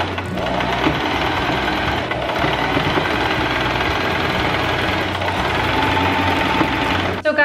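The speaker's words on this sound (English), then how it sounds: "so I want to do a little stitching" A sewing machine stitches sock fabric in a fast, continuous mechanical whirr and chatter, close and steady, with a short pause partway and a stop just before the end.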